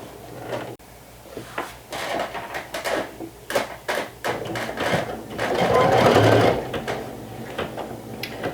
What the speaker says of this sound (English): I like to do double the stitching on each hole.